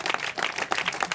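A church congregation clapping together in a brief burst of dense, close applause.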